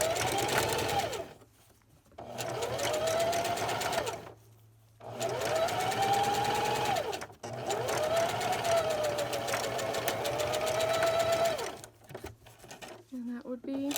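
A sewing machine stitches two layers of fabric for a fitted cloth face mask, whirring in several steady runs with brief stops between, close up, with a voice speaking over parts of it.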